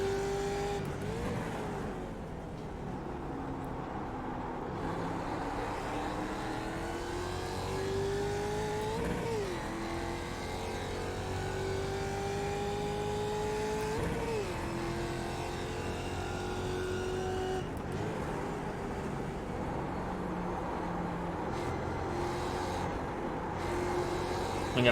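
Race cars run laps on a track, engines droning steadily with rising and falling pitch sweeps as cars accelerate and pass, continuous and fairly loud with no talk.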